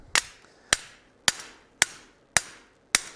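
Hot steel hammered on a forging die while necking down a candlestick, six sharp metallic blows at a steady rhythm about half a second apart, each ringing briefly, close and loud with no talk.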